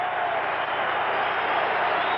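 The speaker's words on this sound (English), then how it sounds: "Listen to this crowd. It's hard to even talk over them." A loud, steady roar fills a Chicago Bulls basketball arena during a playoff game against the Milwaukee Bucks, the packed crowd's noise continuous and dense throughout without a break.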